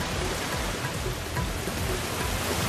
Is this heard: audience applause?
no